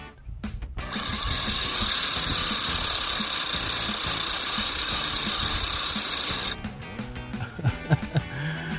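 Two small RC crawlers, an MN82 and a Hummer EV model, drive with a loud, steady whine of electric motors and gears for several seconds, then ease off into uneven ratcheting, grinding bursts.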